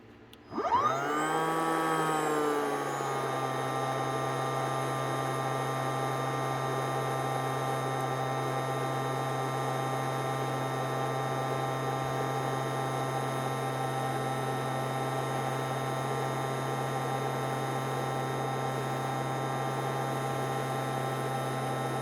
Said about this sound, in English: Then take your heat gun